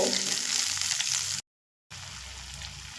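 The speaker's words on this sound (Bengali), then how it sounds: "মশলার বাটি দিয়ে অল্প একটু জল দিয়ে খুব সুন্দর করে মশলাটা ধৈর্য ধরে কষিয়ে নেব" Spice paste thinned with a little water frying in a pan for cabbage with sesame paste, producing a moderate wet sizzle and bubbling, broken by a short silent gap midway before the frying resumes.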